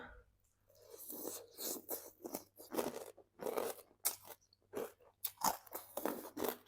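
Crunchy thin-strip pork rinds bitten and chewed close up in a Thai eating show, a steady run of loud crisp crunches in irregular bursts with brief pauses, no talking.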